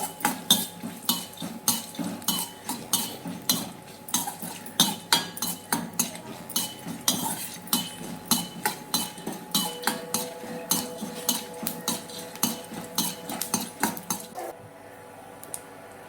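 Dry roasting for chicken kola urundai, a utensil scraping and clinking steadily against a pan in quick, regular strokes, close and fairly loud, before the rhythm stops near the end.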